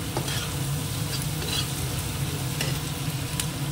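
Ginger paste is stirred into a frying pan with hot oil, making a continuous close sizzle with soft scraping stir sounds throughout.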